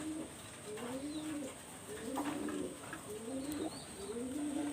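A loft of pigeons, including young birds, coos in repeated rolling phrases, several calls layered close together with a faint high hiss behind them.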